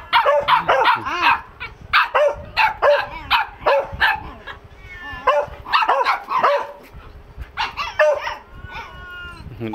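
Hunting dogs bark repeatedly at a village in Bắc Kạn, loud and close, a steady run of sharp barks with some yips and whimpers between them.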